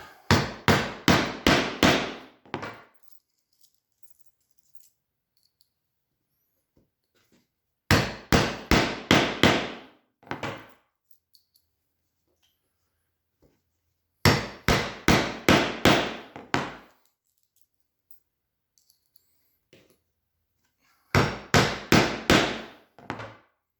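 Sharp wooden tapping in four quick bursts of about six rapid knocks each, separated by silences, close and fairly loud: shelf pins being tapped into drilled holes in a wooden cabinet.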